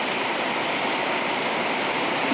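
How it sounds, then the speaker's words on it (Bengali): Heavy rain pours down steadily outside a home kitchen, a loud, continuous dense rush of water with no break across the whole stretch. "এই দেখো ঝমঝম করে কিরম বৃষ্টি পড়ছে, দেখো।"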